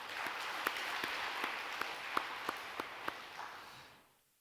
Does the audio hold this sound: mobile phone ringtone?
no